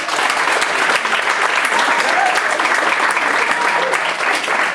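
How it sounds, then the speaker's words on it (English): An audience at a Northern Virginia Community College student leadership talk gives a round of applause: dense, steady clapping throughout, loud and close, with scattered cheers mixed in. "Y'all give him a round of applause"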